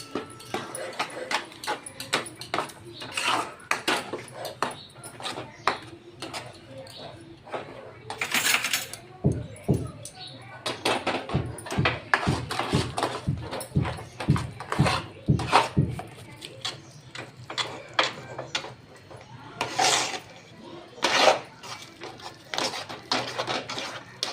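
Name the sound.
stirring thick batter in a pan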